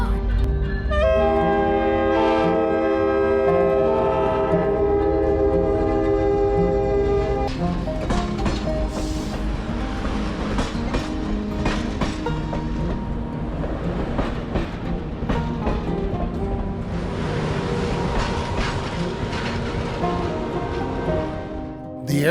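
A Grand Canyon tourist train rolls along through the Arizona landscape, a continuous loud rumble and clatter of wheels and cars with sustained tonal horn-like notes early on, no talking.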